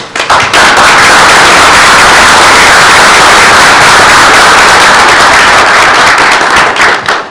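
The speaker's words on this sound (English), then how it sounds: "so that we can give you a round of applause" Parents and guests at a school board meeting give students a loud, sustained round of applause, dense clapping filling the room from start to finish and tapering slightly at the end.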